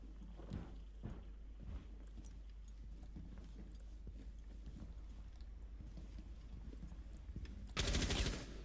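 Gunfire in the video game Rainbow Six Siege: a few scattered muffled shots early on, then a dense loud burst near the end, over a steady low background rumble.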